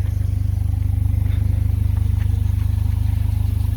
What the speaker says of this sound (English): Kind of hear the exhaust stock rumble there.